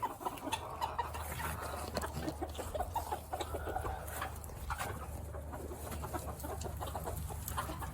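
A small backyard flock of hens with a rooster clucks continuously at low level, with overlapping short calls spread across the scene.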